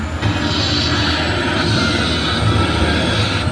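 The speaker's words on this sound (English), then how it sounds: "do you think we can get this tram up to 88 miles per hour?" The Universal Studios Hollywood tour tram rolls along with a steady, loud rumble and broad roaring noise, a continuous drone of moving vehicle and wind with no talking.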